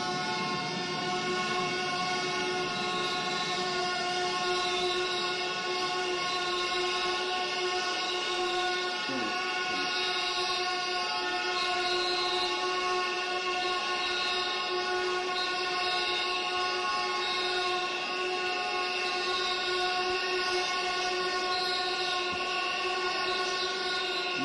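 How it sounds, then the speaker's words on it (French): Lawmakers in a parliament chamber blow shrill whistles in protest during a government investiture session, a dense, continuous wall of piercing overlapping tones that holds steady and loud throughout with no break. "nous allons accorder 3 minutes à ceux qui veulent siffler"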